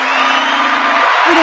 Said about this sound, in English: I bring my own cheering crowd.